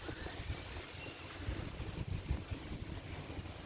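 Cold wind blows through the trees of Altinpark in Ankara, a faint steady rushing with low gusty buffeting on the microphone and no voices.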